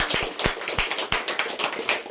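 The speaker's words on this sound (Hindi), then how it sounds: "जोरदार ताली बजाइए" A crowd at a children's programme clapping hard, heard close as a fast, uneven run of sharp hand claps filling the whole moment.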